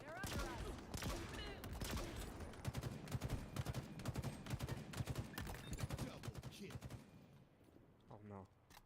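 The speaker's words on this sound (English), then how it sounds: "It's a grenade launcher." Rapid repeated firing from a grenade launcher in the shooter Halo Infinite, a dense loud volley of shots lasting about seven seconds before fading, with a voice briefly speaking at the end.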